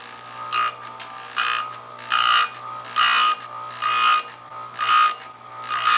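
Saw chain being ground on a chain sharpener fitted with a brand-new stone in a garage, seven evenly spaced rasping grinding bursts, each about half a second long, loud and close, with a low steady motor hum running underneath.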